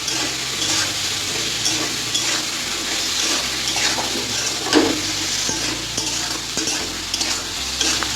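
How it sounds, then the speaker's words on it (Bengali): Vegetables frying and being stirred in a pan with salt and turmeric, a steady close sizzle with scraping stir strokes throughout, no talking. "এভাবে করে আমি একটু ভেজে নিচ্ছি"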